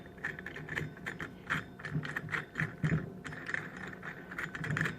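Pulley installer tool being twisted onto the power steering pump pulley of a 2005 Jeep Liberty, giving a steady run of close mechanical ratcheting clicks and small metallic rattles with no talking.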